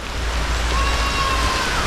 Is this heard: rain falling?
yes